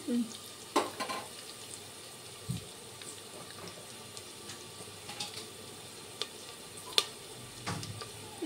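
Chicken pieces frying in a home kitchen pan, a low steady sizzle with a few sharp clatters and stirring knocks scattered through; quiet overall and without talk.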